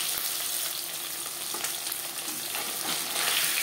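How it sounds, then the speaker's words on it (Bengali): Marinated pabda fish fries in hot refined oil, giving a steady, bright crackling sizzle with small pops throughout, close up and alone without talk. "রিফাইন্ড অয়েল গরম করে নিয়েছি। এবার দিয়ে দেবো ম্যারিনেট করে রাখা মাছ।"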